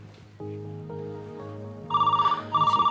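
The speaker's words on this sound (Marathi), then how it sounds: "फोन घे." An indoor telephone starts with a low tone, then gives two bursts of rapid, bright electronic trilling, close and clear, with no one speaking over it.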